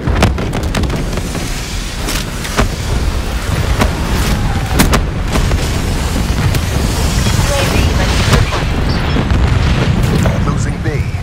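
Hellstorm missile strikes in a military shooter game, booming explosions and sharp cracks over a rushing windy din, with voices speaking through much of it.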